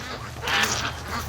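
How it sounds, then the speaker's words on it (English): Ducks quack in a raspy, overlapping flurry at a muddy lakeside farm, close and fairly loud over outdoor background noise. "Doug, leave that duck alone."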